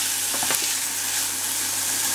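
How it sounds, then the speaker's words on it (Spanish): Ingredients softening in oil in a frying pan, a steady close sizzle with a few light stirring scrapes and no talking. "Lo movemos y lo vamos a dejar pochando."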